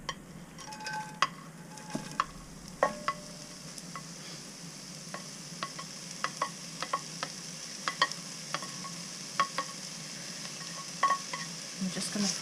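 Diced onions frying in a cast iron pan on a narrowboat stove, giving a steady soft sizzle with frequent light clicks and scrapes of stirring, close and alone.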